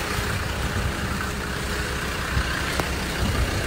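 A diesel Land Rover drives through rain-soaked valley country, its engine a steady, loud, low rumble throughout with no voices.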